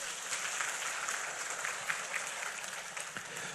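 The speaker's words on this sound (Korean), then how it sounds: "이 시간 우리 하나님께 박수를 한번 영광 돌립니다" Congregation clapping in a Korean church service, a soft, even wash of many hands applauding together, heard at a distance and fairly quiet, with no voices over it.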